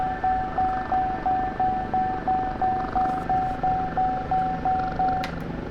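A steady, rapid electronic cockpit warning beep in an OH-58D Kiowa helicopter in DCS repeats evenly for several seconds over a low engine hum during a cold startup, then stops.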